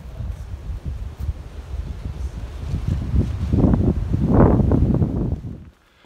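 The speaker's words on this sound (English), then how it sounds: "it's getting really windy right now" Strong wind gusting on a mountain trail in the Great Smoky Mountains, buffeting the microphone with low rumbling gusts that swell louder toward the end before suddenly dropping away.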